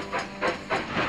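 An animated cartoon train at a station gives off repeated bursts of steam hiss, three puffs in quick succession, close and fairly loud with no talking.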